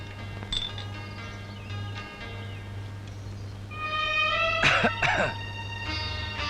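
A person nearby clears their throat and coughs a couple of times in quick bursts, over a low steady hum.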